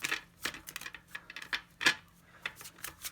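Tarot cards shuffled by hand during a pick-a-card reading, a run of quick papery riffles and slaps in irregular bursts, close and crisp with no talk.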